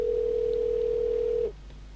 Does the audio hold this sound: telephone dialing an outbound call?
yes